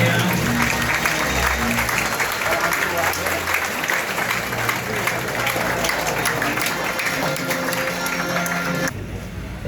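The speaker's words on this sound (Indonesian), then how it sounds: "kita berikan tepuk tangan lagi yang meriah" Audience at a Vesak (Trisuci Waisak) celebration at Ekayana Buddhist temple applauds with dense, sustained clapping across the hall, steady and loud before cutting off near the end.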